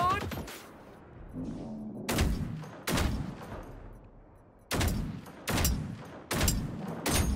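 Gunfire in the video game Generation Zero: several loud, sharp bursts of shots separated by short pauses, with a voice heard briefly between the bursts.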